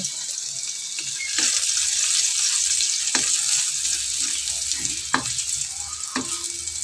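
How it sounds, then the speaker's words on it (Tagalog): Garlic sautéing in hot oil in a pan for pakbet, a bright, loud hissing sizzle throughout, punctuated by a few sharp utensil taps against the pan. "Magluluto ako ngayon ng pakbet. Gigisa ko yung"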